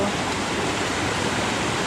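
Lincoln Brook rushing past a hiking-trail crossing, a steady, loud, broadband wash of flowing water filling the whole moment without a break, heard close by.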